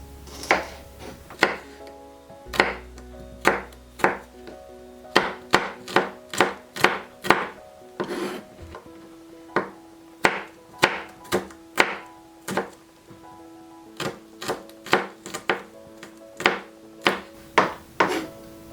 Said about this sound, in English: And last but not least, the garlic. So again, this is just finely chopped.